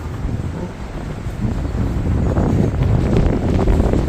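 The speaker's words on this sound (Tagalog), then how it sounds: "Ayan, naririnig nyo ba? Lakas ng hangin." Strong storm wind roars and buffets against the microphone in a constant low rush, growing slightly stronger toward the end.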